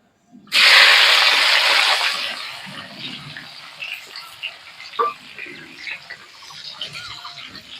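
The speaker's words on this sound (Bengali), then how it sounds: "কড়ার মধ্যে আর একটু তেল দিয়ে দেবো টমেটো আর পেঁয়াজ কুচনোটা তেলের মধ্যে দিয়ে দেবো" Chopped tomato and onion hit hot oil in a kadai with a loud, bright sizzle that rises suddenly, then settles into a steady, softer crackle with occasional pops and light stirring clatter.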